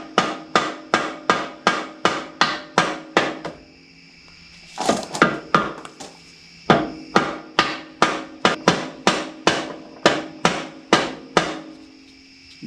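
Dead blow mallet hammering steel thumb pins into place on a mini excavator: a steady run of sharp, evenly spaced strikes, broken midway by a short stretch of clanking metal handling before the rhythmic blows resume.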